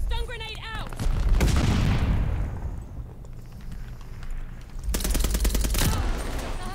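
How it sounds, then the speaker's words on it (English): A stun grenade goes off in Call of Duty Vanguard, with a loud burst and rumbling blast amid game gunfire and effects, followed by more rapid shots; a voice talks briefly at the start. "Stun grenade out."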